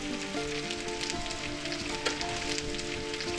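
Softened onions fry in a pan, giving a steady, even sizzle and crackle with no breaks, fairly quiet and close.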